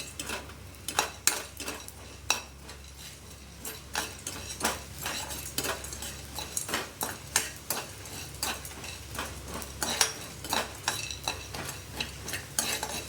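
Spices are dry-roasted in a pan and stirred with a spoon, giving irregular scraping clicks and taps against the metal over a faint, low sizzle that continues throughout.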